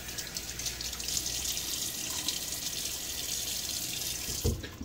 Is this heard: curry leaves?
no